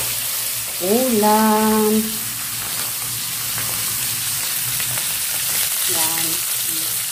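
Food for misua with cabbage fries in hot oil, a close, continuous crackling sizzle that runs throughout while a person briefly speaks over it twice.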